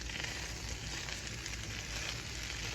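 Rice toasts and fries in a pan for fried rice, a dense steady sizzle that crackles on without a break, fairly faint and close.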